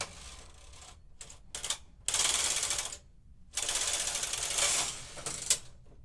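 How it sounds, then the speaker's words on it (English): Brother KH860 knitting machine lace carriage sliding across the needle bed and transferring stitches, heard as bursts of dense mechanical clattering and ratcheting separated by short pauses, loud and close with no talk. "So what we're doing now is going lace carriage to the left, and now it should actually transfer stitches for us."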